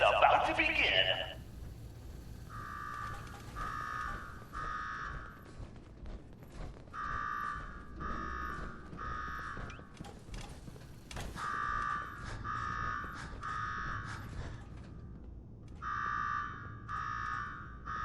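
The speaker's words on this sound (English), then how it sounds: "Now go shut off that damn alarm." A repeating electronic alarm in Fallout 4 VR sounds in clusters of three pulsed tones separated by short gaps, moderately loud over faint background game ambience.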